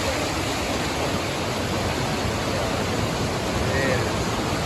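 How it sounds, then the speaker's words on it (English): A cascading waterfall on the Pacific Crest Trail roars as a steady, broadband rush of water that stays loud and unbroken throughout and covers everything else. "Got this amazing kind of cascading waterfall."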